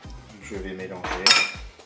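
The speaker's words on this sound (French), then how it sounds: "Je vais mélanger." A utensil scrapes and clinks against the pot of a Cookeo cooker while lemon chicken is stirred with crème fraîche, making a few close knocks and a sharper ring near the end.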